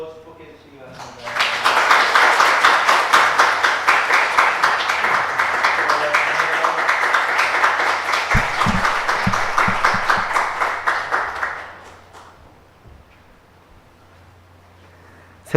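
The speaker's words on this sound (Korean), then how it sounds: "박수로 축복해 주시기 바랍니다." A church congregation breaks into sustained applause at a Sunday service, steady clapping that swells and holds for about ten seconds before fading, with a few low knocks underneath.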